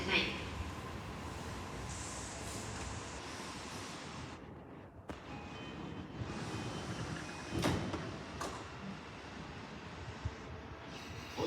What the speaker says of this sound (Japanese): 1番線ドアが閉まります。